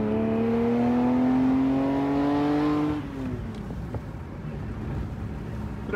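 Ferrari Testarossa replica kit car engine humming loudly at a steady pitch that rises gradually, then drops off and settles into a quieter running rumble with road noise.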